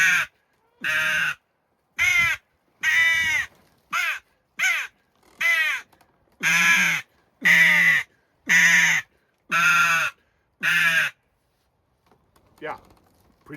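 Caws blown on a JPP crow call, about ten loud, harsh caws in a steady spaced series, followed by a couple of faint softer sounds after a pause.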